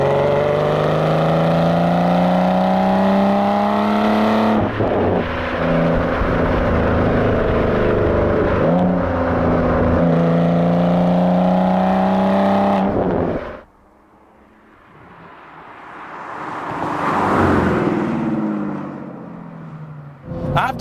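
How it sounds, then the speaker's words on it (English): Aston Martin Vanquish engine droning loud and steady under driving, its harmonic tone rising and shifting with throttle, then cutting back to quieter road and wind noise that swells again near the end. "the engine isn't really a fireworks display like some later cars, it still does the business"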